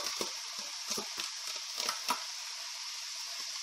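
Spiced meat with ginger and garlic sizzling in a dry pan with no oil, a steady hiss broken by scraping stirs.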